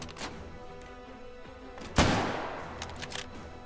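A Winchester 1887 lever-action shotgun loaded with slugs fires one loud, close blast in H3VR, ringing out over quieter clicks and handling noises before and after.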